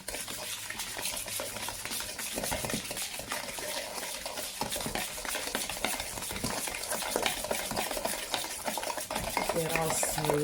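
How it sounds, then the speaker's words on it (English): A whisk beats a sugar mixture for yogurt cake batter in a bowl, a steady, fast, close scraping rhythm that runs the whole time with no talking. "I'm going to whisk that around."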